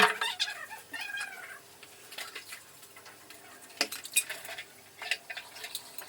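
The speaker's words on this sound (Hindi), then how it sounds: "वही कप अब वो मैं धुल लेती हूँ यहाँ" Cups and dishes being washed in a home kitchen sink, with intermittent clinks and clatters of crockery and cutlery at close range, mostly without talk.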